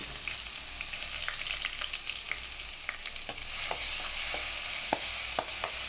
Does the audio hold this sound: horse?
no